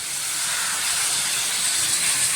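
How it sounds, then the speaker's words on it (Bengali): Water poured into a pan of fried spices with ridge gourd and potato sets off a loud, steady hiss of sizzling and steam, close up and continuous without any voices. "মশলাটাও ভাজা হয়ে গেছে ঝিঙ্গা আলু দিয়ে, তখন এখানে আমি অল্প জল অ্যাড করে দিচ্ছি"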